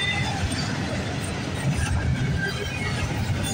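A long intermodal freight train rolls past at a grade crossing, its wagons producing a steady low rumble and rattle of wheels on rails, continuous and close.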